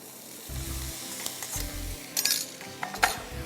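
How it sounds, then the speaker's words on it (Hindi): Minced beef and onions fry in a pan, with soft sizzling broken by sharp clinks and scrapes of a utensil against the pan and low thumps in between. No one speaks. "और इसको आप खूब अच्छी तरह भूनिए।"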